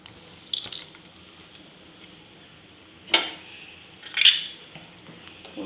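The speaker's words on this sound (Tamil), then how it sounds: "போட்டு நல்லா கிண்டி விடுவோம்." A spoon stirs cooked sago into milky vermicelli payasam in a pot, giving a few faint scrapes and clinks spaced seconds apart over a quiet background.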